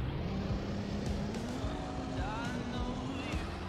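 A tractor engine idling in Farming Simulator 19, a steady low drone with a faint rising and falling tone, continuous and moderately loud throughout.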